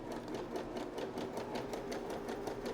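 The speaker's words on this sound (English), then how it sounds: "starting with sewing 2 rows of a zigzag stitch on my sewing machine" A sewing machine sewing a zigzag stitch runs steadily at an even rapid rhythm, its needle clattering in regular pulses, fairly close and uninterrupted.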